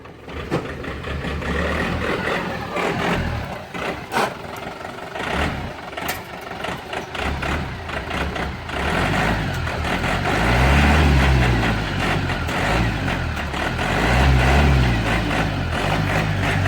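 A Yanmar farm tractor fitted with a multipurpose lifting attachment starts up, then its diesel engine runs loud and close and revs up in swells, alone with no talk.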